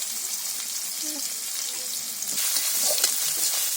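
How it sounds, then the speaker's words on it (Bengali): Spices for a jackfruit stir-fry sizzle steadily in a hot pan, with a continuous close frying hiss that grows louder partway through as the mixture is stirred. "সব রকমের মশলা দিয়ে ভালো করে নেড়ে চেড়ে দিচ্ছে।"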